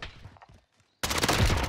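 A single sharp, loud sniper rifle shot from a Swiss K31 in the Warzone shooter game cracks out near the end, following a brief stretch of quieter background game sounds.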